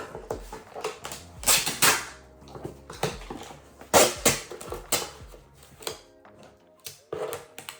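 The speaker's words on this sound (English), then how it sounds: "we're just gonna assemble the box quickly, get some tape out" Cardboard shipping box being folded and assembled for packing houseplants, with an irregular run of thumps, flaps and crinkling taps, plus a few harder knocks as the sides are pressed into shape.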